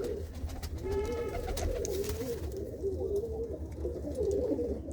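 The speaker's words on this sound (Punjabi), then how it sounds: "ਤੇ ਕਬੂਤਰ ਬਾਈ ਸਿਰਫ ਤੁਹਾਡੇ ਸ਼ੌਂਕ ਦੇ ਲਈ ਆ" Pigeons coo in soft, repeated low throaty calls, close by, over a dull background rumble.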